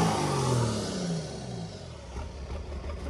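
A Ford F-350 with a Cummins 6BT diesel engine and a 4-inch exhaust revs up loudly nearby, its pitch climbing and then falling back to a rumbling idle.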